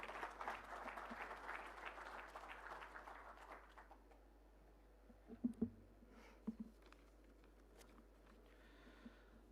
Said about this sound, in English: A round of applause for Narendra